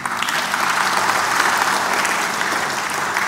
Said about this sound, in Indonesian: Saudara tepuk tangan dulu, tolong tepuk tangan dulu